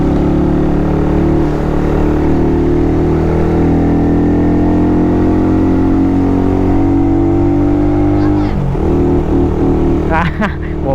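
A vehicle with a stock exhaust pipe drones loud and close on the uneven Atimonan zigzag road in Bagbilao, its engine holding a steady pitch that swells slightly, with brief voices near the end.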